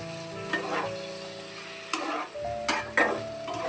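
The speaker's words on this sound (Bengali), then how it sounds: "আবার একটু নাড়াচাড়া করে নেব।" A spice paste sizzles in hot oil for Bengali macher jhol, a steady frying hiss broken by several sharp scraping clinks of a spoon stirring the pan, close and clear without speech.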